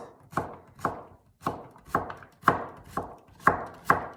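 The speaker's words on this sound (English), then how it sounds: "take half of a zucchini, cut it in half, cut it into corners, and then slice those quarters" Knife slicing quartered zucchini on a cutting board: eight crisp, evenly spaced chops about half a second apart, each a sharp thud with a short woody knock, close and clear with no talk.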